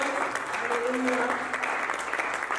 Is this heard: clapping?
yes